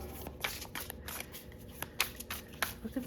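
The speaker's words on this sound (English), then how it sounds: "Shuffle with a little more intention here." Tarot cards are shuffled by hand with a tarot reader, a run of crisp riffling flutters and soft slaps repeating in uneven bursts, close and fairly quiet against a faint room hiss, with no talking.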